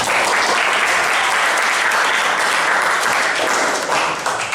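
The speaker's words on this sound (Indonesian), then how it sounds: "Oke, tepuk tangan ya." Audience applause after a talk, a full, continuous spread of many hands clapping at a steady level that tapers slightly at the very end.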